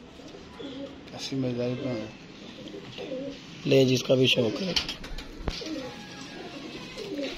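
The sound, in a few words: pigeons cooing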